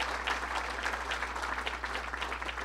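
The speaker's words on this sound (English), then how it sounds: "let's give him another round of applause" Dense applause from an audience honoring a police detective at a formal speech event, steady crowd clapping throughout with a low constant hum underneath.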